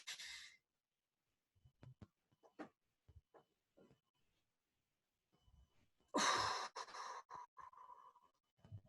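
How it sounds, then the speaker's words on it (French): Slow breathing during a relaxation exercise: a sharp breath at the start, scattered soft breath sounds and small noises, then a long forceful exhale, close and quiet with silent gaps. "inspirez par le nez"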